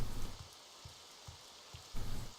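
Modded rain in the video game Morrowind, a soft steady hiss of rainfall with faint low patters recurring at intervals and a louder swell at the start and end.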